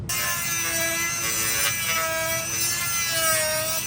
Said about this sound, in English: Once dremeled down